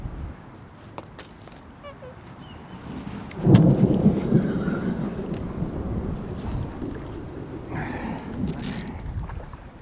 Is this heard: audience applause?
no